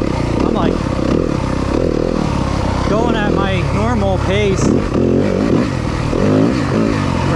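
A 2023 Yamaha 250FX motorcycle engine burbles and revs while riding, with engine braking, close and loud throughout, and a rider talking over it.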